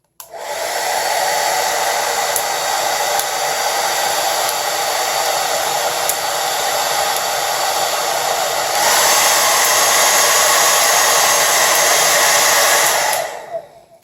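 A CONFU KF-5114 1875W ceramic tourmaline blow dryer runs with a loud, steady close-up whoosh for about twelve seconds, rising slightly in intensity partway through before switching off.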